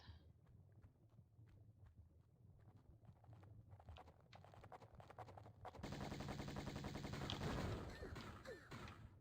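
Uzi gunfire in Tomb Raider I Remastered, heard as rapid rattling bursts of shots that start quietly and grow into a dense, louder stream of automatic fire toward the end.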